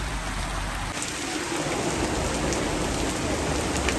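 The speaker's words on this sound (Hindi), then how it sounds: "ये देखो देख लो तो इतनी तेज बारिश आनी शुरू हो गई है ना।" Heavy rain pours outdoors in a steady, dense hiss that stays loud and even throughout, with no voices over it.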